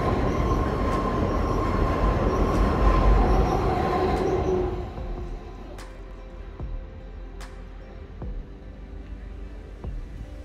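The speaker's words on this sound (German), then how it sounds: "Da kommt noch ein Zug." A train passes through Solothurn, Switzerland, with a loud rolling rumble and wheel noise for several seconds, then drops to a quieter background with faint clicks and distant town sounds.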